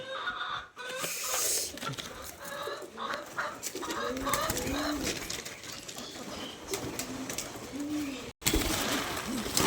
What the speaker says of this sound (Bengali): আঠেরোটার মতো কবুতর আছে